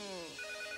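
A telephone rings in an animated children's Christmas cartoon, one short electronic trill that rises clearly above a soft music bed.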